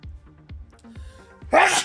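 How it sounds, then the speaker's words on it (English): A man sneezes abruptly at the end of a live market stream, a sudden burst after low rhythmic background thumps, close and loud. "And I'm about to sneeze."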